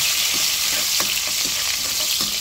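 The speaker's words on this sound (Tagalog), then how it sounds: "Pasutay tayo ng bawang." Garlic and onion sautéing in a fresh pan, a loud, bright, continuous sizzle with a few soft spatula scrapes, close up and uninterrupted.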